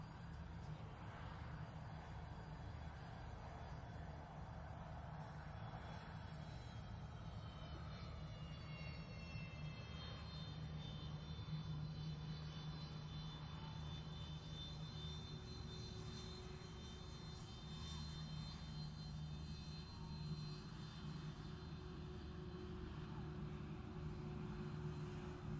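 A Dornier aircraft turns around on a runway, its engine a faint, steady drone with a slowly shifting whine heard from a distance.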